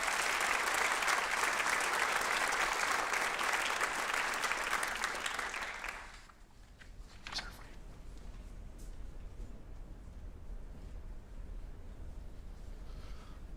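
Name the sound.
audience applause at awards night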